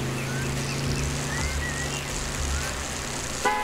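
A propeller airplane drones steadily overhead, a continuous low hum at moderate distance, with birds chirping faintly and a brief knock near the end.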